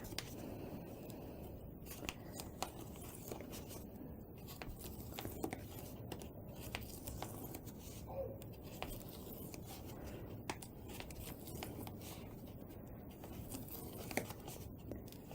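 Scissors or a blade cut the glued, rough edge off a stack of sketchbook paper, giving a faint, continuous crisp snipping and rustling close by, with no talking.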